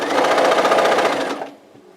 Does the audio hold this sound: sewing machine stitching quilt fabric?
yes